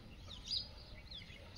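A pure Aseel chicken on a free-range desi poultry farm gives a few faint, brief clucks and chirps over quiet background noise.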